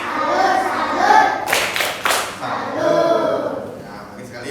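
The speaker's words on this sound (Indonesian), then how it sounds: "Tepuk tangan buat Cynthia ya." Children in a classroom clap for a classmate: a few sharp, distinct hand claps in quick succession in the middle, with a teacher's voice speaking before and after.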